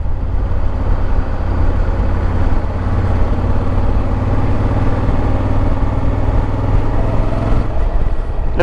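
A 2025 Honda Africa Twin motorcycle engine pulling in fourth gear at about 2,000 rpm, a loud, steady low rumble that holds constant without revving up, mixed with road and wind noise.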